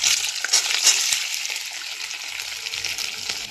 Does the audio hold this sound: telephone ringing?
no